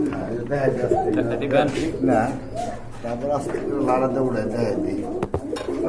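Triple-band pigeons in a loft coo continuously in low, throaty rolls beneath a man's loud, steady talking, with the birds close by.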